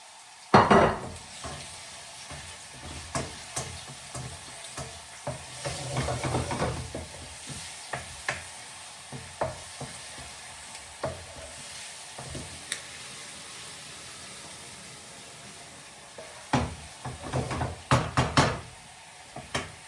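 Ginger and garlic fry in hot oil for a chicken dish, a quiet continuous sizzle under occasional knocks and scrapes of a spoon against the pan, with louder clattering bursts near the start and end.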